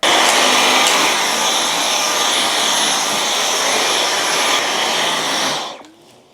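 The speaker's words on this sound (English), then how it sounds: "I'm going to give this a vacuum because it needs it." A vacuum cleaner runs over the floor of a toy room as a loud, steady whooshing roar close by, then winds down and cuts off near the end.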